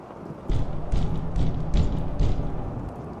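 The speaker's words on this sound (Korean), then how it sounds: "양쪽으로 책상이나 벽을 있는 힘껏 두드리는 듯한 폭력적인 소리가" A series of heavy, muffled thuds as desks and walls in a meeting room are violently banged, about five blows in quick irregular succession, loud and close.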